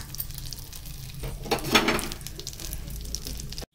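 Semiya vermicelli fries in a pan for caramel kheer, giving a low, quiet sizzle that swells briefly with a stirring scrape partway through.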